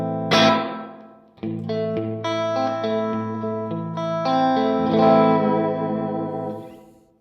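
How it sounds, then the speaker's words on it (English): An electric guitar plays a short phrase of strummed chords and single notes through the EHX Epitome pedal's room reverb, a shorter ambient decay trailing each note, loud and up close with no voices. "The room is a shorter sounding reverb."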